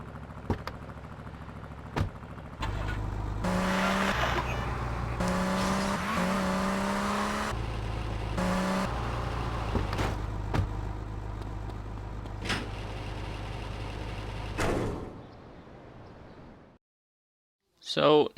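A Cheetah sports car in GTA Vice City revs and accelerates with a loud engine drone. Pitch shifts between gears, tires squeal, and sharp game sound effects break in before the engine fades out and it goes quiet.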